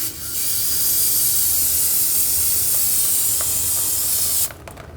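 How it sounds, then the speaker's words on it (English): Brake parts cleaner sprays from an aerosol can during rear suspension knuckle work on a 2003-2008 Subaru Forester, a loud, close, steady hiss lasting about four seconds before cutting off, followed by light handling clicks. "just clean this up with a little brake parts cleaner"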